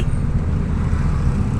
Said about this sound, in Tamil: ஏன் இவ்வளோ டிராஃபிக் ஆகுது இங்கே?